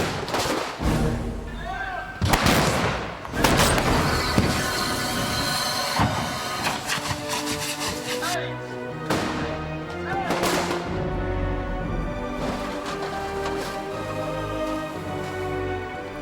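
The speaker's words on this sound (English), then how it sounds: "The explosions go off, and these guys are engulfed in flames." Pyrotechnic explosions set off during a film stunt for X-Men 2 on set, several loud booming blasts with rumbling roar and crackle that trail into sustained fiery noise.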